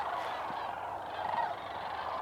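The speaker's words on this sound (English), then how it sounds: "what we have in the background is a bunch of sandhill cranes" A flock of sandhill cranes calls in the distance over Hardin County, Kentucky, a continuous chorus of rolling, trilling cries, moderately faint and steady with no one talking.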